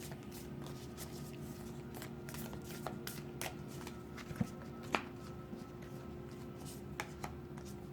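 Tarot cards being shuffled and drawn during a reading, a soft close riffle of papery flicks and slaps over a low steady background hum, with a couple of sharper taps.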